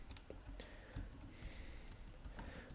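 Quiet, rapid keystrokes on a computer keyboard while code is entered, with irregular clicks that are close and soft.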